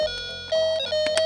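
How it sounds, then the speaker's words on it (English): A cheap little toy keyboard from a dollar store plays bright, electronic synth tones, a sustained note under a few short chirpy bursts, with a thin background drone and no talking. "I was shopping at a dollar store and found this really cheap little keyboard that sounds like this."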